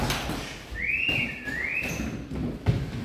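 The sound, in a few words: whistle blown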